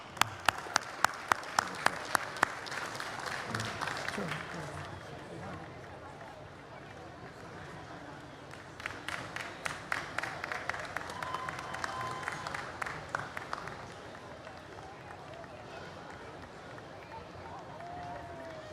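Audience applause at the World Culture Festival honoring Ramnath Kovind, 14th President of India, rising in waves of clapping with crowd murmur, fading briefly mid-way then swelling again, with scattered speech in the background.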